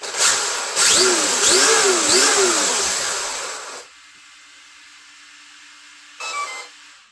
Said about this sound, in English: Start that motor up again.